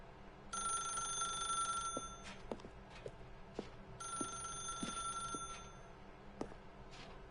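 Telephone ringing in The Stanley Parable video game, two bright electronic ring bursts about a second and a half long separated by a pause, faint and set against a soft hum with small clicks.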